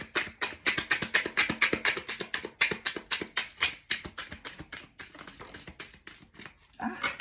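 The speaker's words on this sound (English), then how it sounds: "I'm going to do it one more time, and then I'm going to cut the deck" A deck of tarot cards is shuffled and cut with a rapid, steady series of crisp riffling snaps, close and fairly quiet, then ends in a brief rustle.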